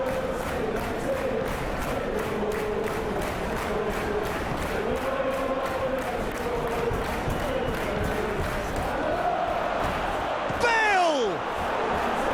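Roaring football stadium crowd at Manchester United versus Leicester, a dense continuous murmur that swells with cheers and shouts, a commentator talking over it throughout, and a rising whistle-like sweep near the end.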